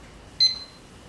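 A kitchen timer gives a single short, bright electronic beep as it is set for cooking jasmine rice, standing alone against a quiet room.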